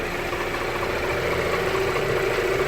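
An Alfa Romeo Spider's engine idles steadily up close with a continuous low rumble and a faint metallic rattle running through it.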